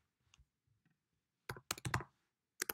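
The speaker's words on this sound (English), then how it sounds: "So you can start typing," CSS code typed on a computer keyboard, a few faint taps followed by a close burst of quick, loud keystrokes and then a short final pair.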